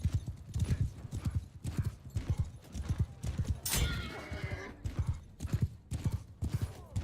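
Cavalry horses in the modded video game Mount & Blade II: Bannerlord gallop with steady, rhythmic hoofbeats close by. A neigh rises midway through, and battle noise plays in the background.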